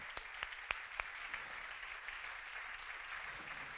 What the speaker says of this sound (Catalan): us demano sobretot, abans de començar, un aplaudiment per tots ells.